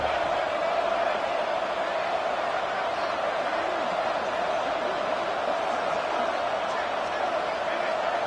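A football stadium crowd roars after a big third-down play, a dense, steady wall of loud cheering that holds for the whole stretch without letting up.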